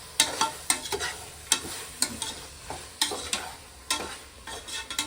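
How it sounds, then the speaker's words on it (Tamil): Green peas for mushroom biryani sauté in a pan, with repeated sharp spoon scrapes and stirs landing roughly every half second over a soft, steady sizzle, close up and with no voices. "இது எல்லாம் ஒரு பத்து நிமிஷம் வதங்கினோன்னா நம்ம அரிசி போட்டுடலாம்"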